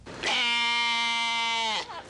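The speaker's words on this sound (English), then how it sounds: "Anyway, they're all breeds of sheep" One long sustained bleat from a rare-breed sheep, loud and close, holding a steady pitch for about a second and a half before cutting off, heard alone.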